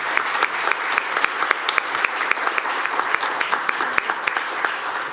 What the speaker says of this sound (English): So I would like to kindly ask you to give a big applause to all speakers and my co-moderator.